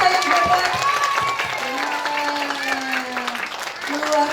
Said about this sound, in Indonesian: Mari Bapak Ibu orang tua kita berikan tepuk tangan yang meriah untuk anak-anak kita yang hebat.